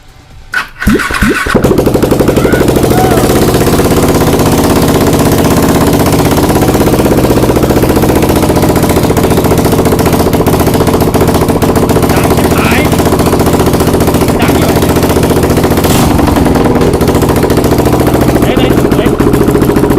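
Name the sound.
motorcycle engine starting and revving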